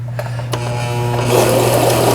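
A Brother XL3500 sewing machine set to zigzag stitch runs steadily with a close, rhythmic mechanical whir and needle clatter over a constant motor hum, picking up speed partway through.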